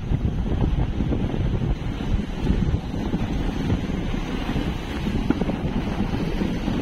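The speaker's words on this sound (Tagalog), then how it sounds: "So medyo mahangin ngayon, malakas yung habagat." Strong southwest monsoon wind buffets a small service boat at sea, a steady loud roar of gusts rumbling across the microphone with the wash of waves beneath, continuous throughout with no voices.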